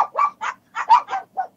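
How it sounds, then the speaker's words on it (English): Several dogs bark in quick, uneven bursts, about seven sharp yaps close by over under two seconds, with no talk over them. "They're all looking at the door and barking, and there's nobody out there."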